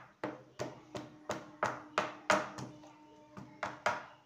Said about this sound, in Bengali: একটু ট্যাপ করে নেব।